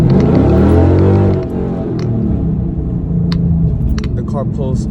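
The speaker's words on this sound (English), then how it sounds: "The car pulls super hard." A Dodge Challenger SRT 392 fitted with a new 3.70 differential accelerates hard, its V8 roaring loud and close with rising harmonics, then easing to a steady rumble with a voice speaking over it.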